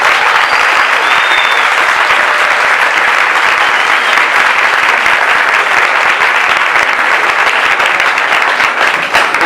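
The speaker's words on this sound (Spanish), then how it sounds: "Un aplauso, por favor." Steady audience applause fills the whole stretch, dense and continuous, as a science panel discussion on genetically modified foods wraps up.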